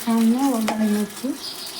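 Sugar is stirred into a sizzling pan of hot oil tempered with mustard seeds and cumin, with a splash of water, during Holi breakfast cooking. Loud frying hiss and stirring scrape dominate, while a voice speaks briefly over it.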